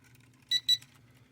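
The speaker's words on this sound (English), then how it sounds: "Until you hear a beep again." A ZD012 brushless GPS drone gives two quick, bright electronic beeps during compass calibration, close and clear over a low background hum.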